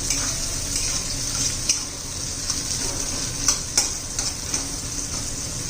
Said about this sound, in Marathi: आता कांदा जरा परतून घेऊ व्यवस्थित